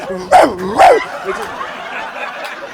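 A voice imitates a dog barking, two quick yappy woofs close up, followed by quieter murmuring.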